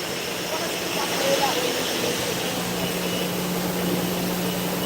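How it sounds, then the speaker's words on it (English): Steam pressure hissing steadily from maple syrup evaporator equipment at a sugaring farm, a continuous broadband hiss with a low hum beneath, while people talk nearby. "Still got a little steam pressure there."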